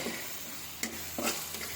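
Spice paste for a sour dish of potato, aubergine and hog plum fries in oil, a soft continuous sizzle broken by two or three quick spatula scrapes.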